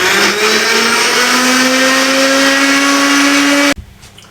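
Electric grinder whirs loudly and steadily as it blends chicken kebab paste fine, its pitch rising slightly before the motor cuts off abruptly, followed by a short clatter and near silence.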